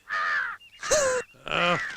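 A crow caws three times in a row, loud and close, each call harsh and drawn out with short pauses between.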